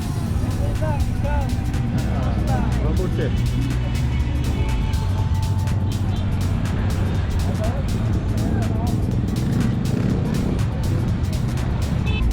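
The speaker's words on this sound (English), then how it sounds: "This is crazy, mate. The traffic in Manila." Dense street traffic in Manila, with a steady roar of engines and vehicles passing close by, continuous and loud throughout, with someone talking over it.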